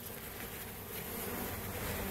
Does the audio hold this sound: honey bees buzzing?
yes